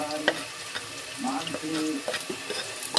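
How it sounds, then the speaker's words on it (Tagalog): Garlic sautéing in a little oil in a pan, a steady sizzle and crackle broken by scraping stirs of a utensil against the pan, close and fairly loud with no talk. "Gisa na natin yung bawang."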